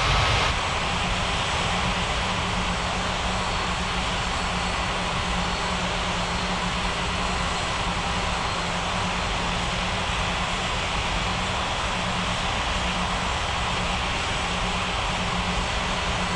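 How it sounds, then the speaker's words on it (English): Aircraft engine taking off in an air traffic control video game, a steady loud roar with a droning hum that runs unbroken for the whole stretch, no speech over it. "FedEx China 371 cleared for takeoff runway 23."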